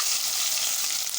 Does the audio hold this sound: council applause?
no